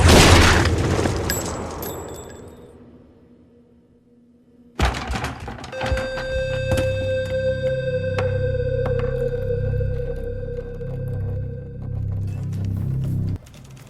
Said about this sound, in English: He presses the trigger aiming at Nandu